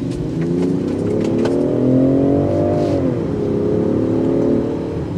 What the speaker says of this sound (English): It'll put a smile on your face because the exhaust filters in.